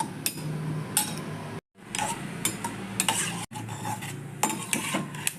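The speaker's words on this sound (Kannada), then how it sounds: "ಸ್ಟವ್ ಆನ್ ಮಾಡಿಕೊಂಡು ಸ್ವಲ್ಪ ಕಟ್ ಮಾಡಿದ ಕೊಬ್ಬರಿನ ಕಾಯಿಸ್ಕೊಳ್ಳೋಣ" Chopped dry coconut pieces are stirred and scraped in a pan on the stove, with repeated metallic clinks and rattles of the spoon against the pan and a faint sizzle underneath.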